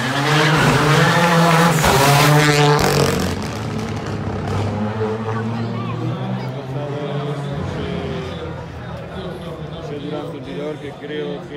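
A rally car blasts past on a timed stage at the Rally Crono Villa de Espiel, engine roaring loud and close with rising revs, then fading into a long receding drone while commentators talk over it.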